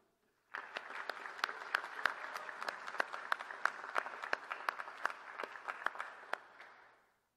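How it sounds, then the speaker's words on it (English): Commencement crowd at the University of Hawaii at Hilo breaks into applause for alumni, a sudden dense burst of many clapping hands that holds steady for about six seconds, then fades away to silence. "Please give a round of applause for our alumni."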